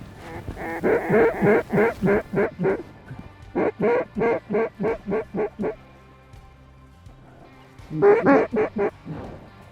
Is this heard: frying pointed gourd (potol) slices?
no